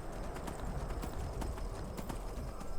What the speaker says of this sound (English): we're just going to use a horse and travel the whole way there